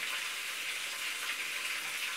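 Soft, steady hiss of running tap water as hands are wetted while shaping chicken meatballs in a home kitchen, continuous and fairly faint throughout.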